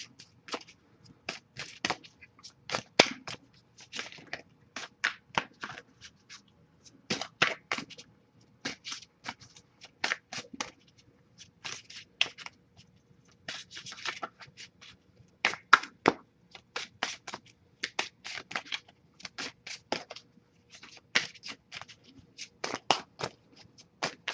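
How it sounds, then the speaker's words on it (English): Repeated crisp riffling bursts of a deck of cards being shuffled, close by, in quick clusters with short pauses between, no voices. "I'll give it a couple more shuffles."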